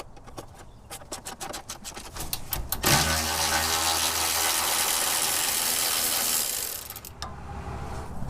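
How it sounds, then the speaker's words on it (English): Ratchet loosening a 12 mm skid plate bolt under an off-road vehicle, a fast run of close clicks followed by a long steady whirring spin, then a few more clicks. "Just release the 12 millimeter bolt that holds the skid plate on this side."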